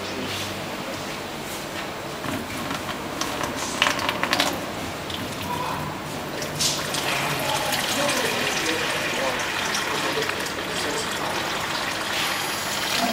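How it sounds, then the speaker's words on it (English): Water pours steadily into a small model well during a flow-rate experiment, a continuous splashing gush with a few faint knocks and no talk over it. "So now we start to pour the water inside the well."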